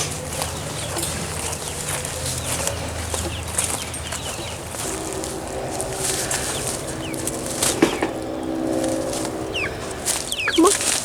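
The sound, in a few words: chickens clucking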